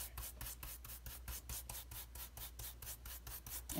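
An ink blending tool rubs back and forth on a paper background in quick, even strokes, a faint rhythmic scratchy swish repeating close up.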